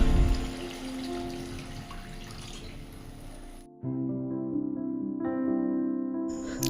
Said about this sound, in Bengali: এরপর 2 কাপ মতো জল দিয়ে দেব।